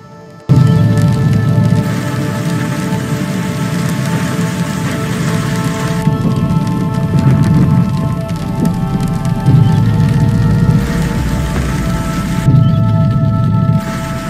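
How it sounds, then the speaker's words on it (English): Hail pelting down steadily during a hailstorm with strong winds in the Emirates, a dense, loud, continuous patter like heavy rain on hard surfaces, with no speech. "The hailstorm was accompanied by strong winds"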